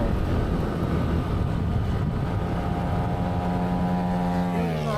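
Motorcycle riding along the Kaybiang Tunnel route through Magallanes, Bailen and Maragondon, its steady engine hum and road rumble running continuously and fairly loud, rising in pitch near the end, with no talk over it.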